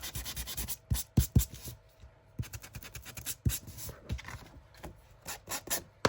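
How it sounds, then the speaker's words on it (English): Folded paper for a junk journal is sanded by hand in quick, uneven scratchy strokes, close and fairly loud, with short pauses between bursts. "Give it a sand"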